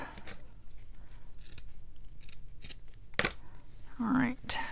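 Scissors snipping the top off a paper craft tab, a few crisp close cuts with a longer rustling cut near the end, while someone talks quietly.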